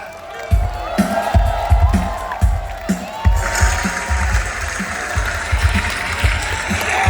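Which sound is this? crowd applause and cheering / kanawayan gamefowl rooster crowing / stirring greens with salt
crowd applause and cheering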